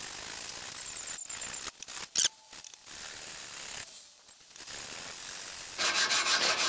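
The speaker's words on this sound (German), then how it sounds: "dann legen wir die Feile drauf und feilen da einfach gerade rüber" Rasping strokes of a file wrapped in 120-grit sandpaper across an exhaust manifold flange on a Ducato 2.5 TD engine, with short scrapes and pauses and a denser rubbing burst at the end.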